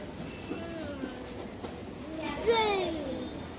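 A train carries passengers toward Mayapur, its carriage rumbling steadily beneath children's and adults' chatter, with a brief rising squeal near the end.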